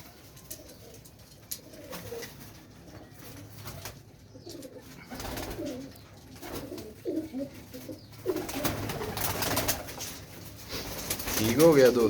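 Old-line Shahjahani pigeons coo softly in a loft, low repeated calls mixed with occasional wing flutters, while someone talks over them throughout.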